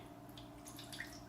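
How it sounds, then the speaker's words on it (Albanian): Water poured from a glass into a baking tray to make a water bath for baking caramel cream custard in the oven, a faint, steady splashing trickle with no talking. "Ja 2 gota me ujë"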